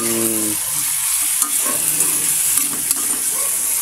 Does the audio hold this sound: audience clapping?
no